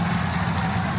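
Roaring low rumble of a rocket booster firing its landing engines as it hovers and descends toward a launch tower for a catch, a steady dense roar with no pauses.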